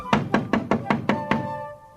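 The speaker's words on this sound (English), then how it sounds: "a harsh knocking cut our celebration short" Harsh knocking on a door, six hard, evenly spaced raps that sound close and loud, followed by a sustained tone fading out as the knocks stop.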